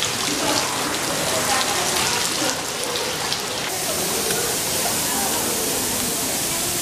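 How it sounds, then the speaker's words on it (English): Steady, dense indoor rain in a rainforest exhibit patters down continuously at close range, a broad hiss of drops striking surfaces with no pauses. "And they've got it raining in here too."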